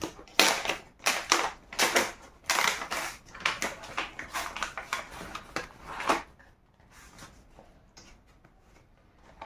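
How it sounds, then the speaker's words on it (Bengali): A GoPro Hero 11 camera package being unboxed, with close crinkly rustling and crunching of packaging and plastic in quick bursts for about six seconds before it goes quiet, no talking. "এখন আনবক্স করা যাক।"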